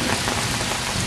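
A spring hailstorm in Eureka Valley, San Francisco, in March 2010: ice pellets pour down in a dense, loud, unbroken patter on surfaces, steady throughout with no pauses.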